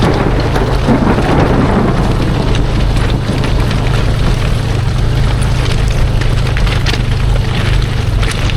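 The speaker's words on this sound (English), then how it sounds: "This ain't no place to be in an electrical storm, so we're just getting out of here." Loud, steady thunder rumbles through a continuous roar of rain during an electrical storm on a steep mountain trail near old mines in Idaho, with no talking.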